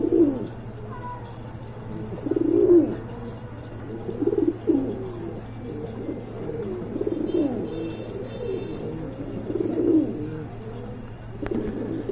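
Pairs of fancy pigeons coo in low, rounded, repeated calls, several birds close by with overlapping phrases, faint chirps and background hum between them.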